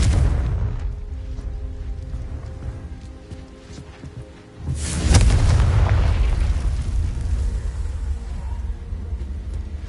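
The Confringo explosive spell going off in the Hogwarts Legacy video game: a loud, deep blast about halfway through followed by a long rumbling roar, after a quieter stretch of rumble and crackle.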